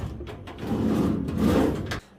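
A set of drawers in a workshop slides open or shut with a woody scraping rumble lasting about two seconds, close and fairly loud, ending abruptly.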